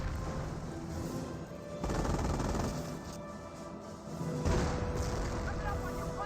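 Mortar shots and battle noise in Company of Heroes 1, a dense rumble of booms and gunfire with heavy thumps punching through, under steady commentary.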